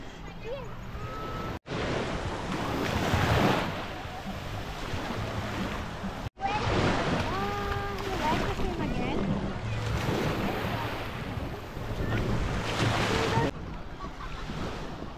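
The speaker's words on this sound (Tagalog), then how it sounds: "Umina na yung alon." Sea waves at a beach resort wash in steadily with wind buffeting the microphone, a continuous broadband surf roar that swells and recedes, with family voices and children talking over it.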